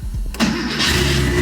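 A Porsche 911 Turbo cranks briefly and fires up, the engine catching with a loud burst and settling into a steady, close rumbling idle.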